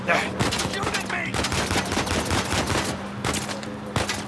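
Rapid bursts of gunfire in the Uncharted 4 video game, dense repeated shots crackling over a steady game soundtrack, loud and continuous through a chaotic chase sequence.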